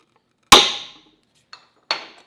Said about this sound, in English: We want to punch center marks in the steel.